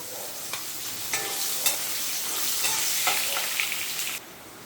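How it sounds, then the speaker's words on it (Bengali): Thinly sliced potatoes and vegetable stems sizzle steadily in hot oil, with a few scraping stirs punctuating the constant frying hiss, close and fairly quiet. "এই ডাঁটা আর আলু দিয়ে আমি একটু ভেজে নেব।"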